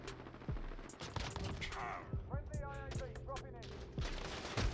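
A shotgun fires in the video game Modern Warfare, with sharp gunshots spread across a busy firefight and other weapons cracking in rapid bursts, all quite faint.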